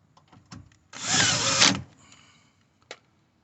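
A power drill driving bolts on a 2003-2010 Porsche Cayenne door whirs in one short, close burst of under a second, with faint clicks and taps before and after in a quiet space.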